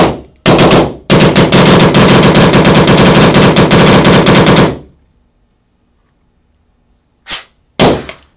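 A rapid, loud burst of paintball gun shots fired in quick succession for about four seconds, then silence, followed by two more short bursts near the end.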